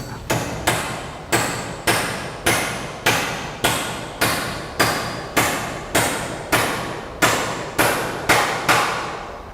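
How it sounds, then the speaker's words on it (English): A hammer drives nails into timber roof battens on a Decra roofing job, striking in a steady, evenly spaced series of about fifteen sharp, close, loud blows. "he fixes the batten with a nail and then takes a marker nail out and installs it on the next batten up"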